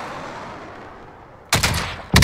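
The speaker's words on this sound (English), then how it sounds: "Oh yeah, I'm getting shot." Gunfire in a shooter video game: after a quiet stretch, two loud bursts of shots erupt close by, the first lasting over half a second and the second hitting harder at the very end.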